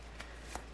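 A tarot card is drawn from a deck: a soft, close, brief card slide and flick with two light taps in near silence.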